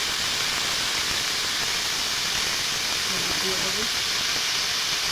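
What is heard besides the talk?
sizzling of green banana curry frying in oil in a wok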